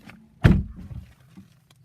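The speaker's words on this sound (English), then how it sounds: "I'll go ahead and close the door." A single solid thunk as the door of a 2018 Shelby GT350R shuts from inside the cabin, followed by a faint settling rattle and quiet.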